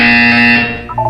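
A buzzer in the Portal 2 video game, one loud electronic tone held for about half a second, then fading as softer tones follow.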